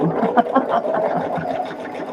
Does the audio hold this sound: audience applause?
no